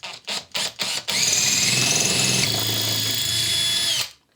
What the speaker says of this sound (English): So I drill there.